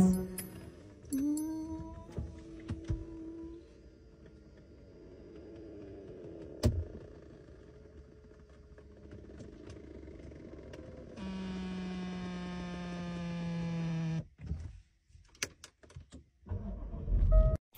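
A car's electric seat motor whirs in steady stretches as the seat is moved, with a long continuous hum mid-clip broken by clicks and short gaps, heard close inside the car.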